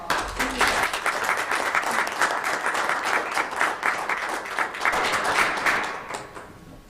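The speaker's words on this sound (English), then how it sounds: "give Alicia a round of applause" A county commission meeting audience gives a sustained round of applause, steady dense clapping from many hands that fades out near the end.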